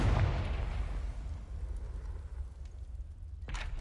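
A Confringo fire spell explodes in the Hogwarts Legacy video game, a loud rumbling blast that decays over several seconds before a second sharp burst near the end.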